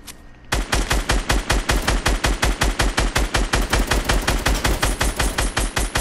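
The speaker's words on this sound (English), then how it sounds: "He's shooting me." Automatic gunfire in Fortnite, a rapid, evenly spaced burst of loud close shots running on for several seconds after a brief quiet start, with no talk.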